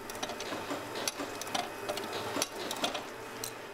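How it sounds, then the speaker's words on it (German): A machine loaded with nails fastens reed plates onto the comb bodies of harmonicas. It gives a quiet, busy mechanical clatter of rapid, irregular ticks and taps over a low background hum. "Die Maschine ist mit einem großen Vorrat an Nägeln ausgestattet."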